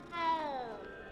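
A cat in the Hogwarts Legacy video game gives one clear, close meow with a bending, falling pitch, lasting under a second against soft game ambience.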